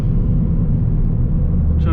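Ford Fiesta ST180 hatchback tuned to Stage 2 with 235 bhp, its engine droning as a low, steady rumble from inside the car while driving, continuous throughout with no talk.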